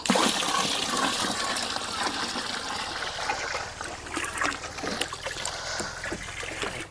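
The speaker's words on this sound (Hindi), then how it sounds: "इसमें कम पानी है सो फिर हम इसे और पानी में मिला रहे हैं।" Water pours steadily into a large container to dilute homemade pesticide toward a 100-litre mix, a loud, continuous splashing gush with constant trickling and no pause.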